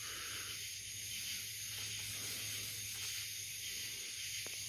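Plain WD-40 sprays onto a hazy car headlight as a steady, continuous hiss that lasts throughout, close and even.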